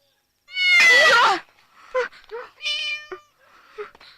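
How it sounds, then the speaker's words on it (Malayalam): A cat meows close by, one long loud cry followed by several shorter, softer mews in an irregular run. "ശൂന്യം പിടിച്ച പൂച്ച"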